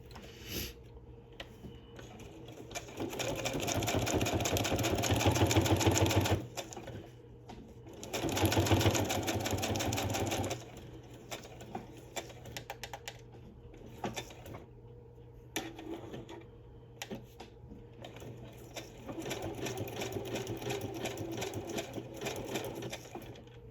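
Sewing machine stitching fabric, fast mechanical whirring runs in several bursts separated by quiet pauses and light handling clicks, heard up close.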